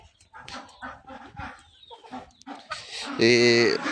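Chickens cluck repeatedly nearby, with a louder, sustained call near the end, while someone speaks over them in a farmyard where ducks are also kept.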